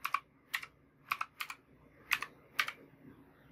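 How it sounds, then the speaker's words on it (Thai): Keys clack sharply on a computer keyboard as a short word is typed into a Windows command window. About eight crisp, close keystrokes fall in small irregular bursts over a quiet background. "ให้ท่านผู้ชมมาพิมพ์ว่า regedit"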